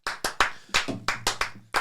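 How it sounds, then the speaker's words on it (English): Hands clap in a short run of about nine sharp, close claps at an uneven rhythm, celebrating a push, pull, run event champion after a hybrid-training session; no talk over it. "Clap him up. Well done."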